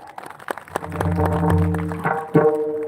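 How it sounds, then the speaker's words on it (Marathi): Audience clapping for Bapu at an outdoor kirtan, building into a modest ragged round of applause beneath sustained harmonium-like musical tones. "बापूंसाठी जोरात टाळ्या"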